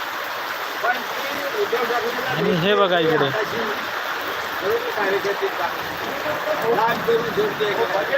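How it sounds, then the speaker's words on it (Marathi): Steady broadband hiss of heavy rain in Chiplun continues throughout, with a person talking over it partway through. "पावसाचा जोर जोरात झालेला आहे"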